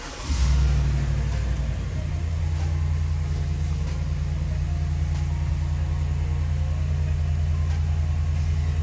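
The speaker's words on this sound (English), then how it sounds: "I'll now just get in the vehicle and turn it on for you." A 2023 Chevrolet Suburban 1500 LT engine, push-button started, catches and settles into a steady idle, a low continuous rumble with faint ticking, with no prior cranking heard.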